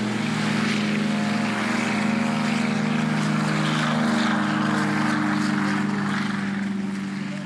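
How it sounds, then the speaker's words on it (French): Vintage propeller airliners and bombers such as a JU-52, DC-3 or B-17 pass at the La Ferté-Alais air show, a loud, steady multi-engine drone with a harmonic hum that swells and slowly fades. "JU-52, DC-3, jusqu'au B-17, des modèles exceptionnellement bien restaurés effectuent des passages hélas trop courts."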